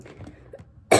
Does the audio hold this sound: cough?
yes